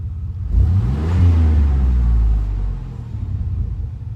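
A 1995 Chevy K1500 pickup's engine revs up once from idle, a deep rumbling swell lasting about two seconds before settling back to a steady close idle.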